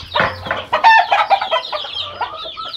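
A rooster gives a short run of harsh, rapid clucks and squawks, close and loud, with no talking.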